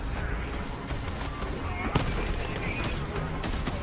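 Gunfire from Borderlands 3 video game weapons sounds as dense, continuous bursts and shots in a busy game mix, with one sharper crack standing out midway.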